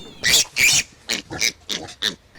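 A dwarf pig and her spotted mini-pig piglets give a series of close, loud grunts and squeals, short bursts in quick irregular succession.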